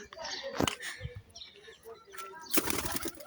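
Two quick bursts of wing flapping as a young pigeon takes off, close by, with faint voices in the background.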